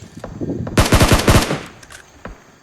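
A loud, close burst of about six rapid automatic gunshots rings out in the battle royale video game PUBG, with a few fainter clicks before and after.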